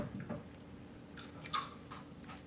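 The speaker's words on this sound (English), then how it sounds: "I'm gonna eat one of the burnt ones so you can hear how crunchy it is." A few crisp crunches from someone biting into a burnt homemade chip, close up, two sharp bites about half a second apart over quiet room tone.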